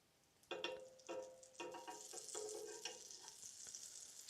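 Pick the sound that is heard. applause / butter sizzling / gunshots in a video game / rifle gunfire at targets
butter sizzling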